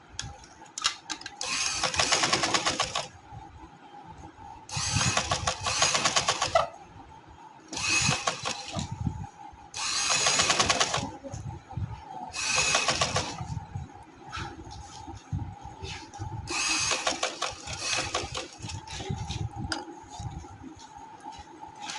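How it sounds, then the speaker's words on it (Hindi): A sewing machine stitches around a dress neckline in bursts of rapid mechanical whirring, separated by short quiet pauses, close and fairly loud with no talk. "अब मैं इसको आराम से जितनी मैंने इसको मगजी देनी है उतनी दे के मैं इसकी सिलाई लगा लूँगी"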